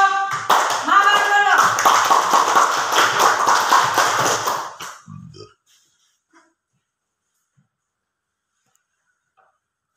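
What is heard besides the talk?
classroom clapping for a student group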